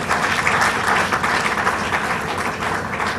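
A crowd applauds loudly and continuously throughout, a thick, steady wash of clapping with no talk over it.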